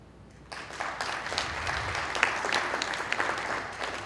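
Conference audience applause at a 2012 skeptics' talk starts abruptly after a moment of quiet, a crowd clapping steadily for about three and a half seconds, fairly loud with no voices over it.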